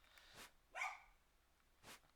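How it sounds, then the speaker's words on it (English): Dogs barking indoors after a bang on a table, three short, sharp barks spaced apart, faint and somewhat distant, against quiet room noise. "My dogs are barking because I banged on the table."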